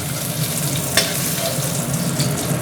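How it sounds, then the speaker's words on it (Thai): Mushrooms stir-frying in a hot wok before garlic goes in, a loud, constant sizzle with one sharp scrape of the spatula, close up and without voices. "ผัดไปก่อน"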